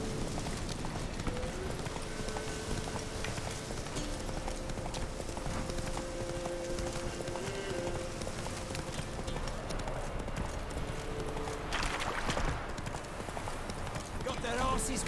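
Roach, a horse in The Witcher 3, gallops with rapid, rhythmic clip-clopping hooves that run continuously at moderate loudness, with game music and ambient noise beneath and a brief louder burst near the end.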